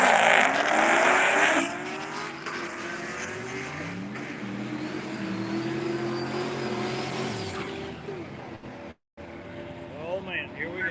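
A drag racing car launches hard down the strip at a Summit Racing Midwest Drags event, its loud engine note climbing steadily through several rising gear pulls, then briefly cutting out before other engines resume.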